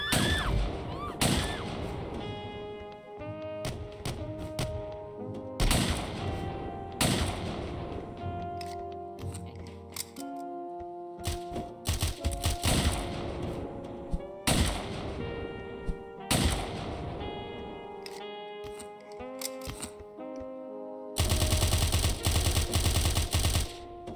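Gunfire in the video game Of Murder and Moonshine, including a pump-action shotgun: a string of sharp, loud blasts in irregular bursts, with ringing decays between shots and a harsh crackling stretch at the end.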